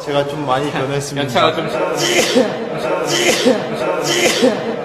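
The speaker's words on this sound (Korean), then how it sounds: "재채기 한 거야?" A K-pop idol lets out a sneeze amid ongoing talk, with several short sharp bursts standing out over the voices.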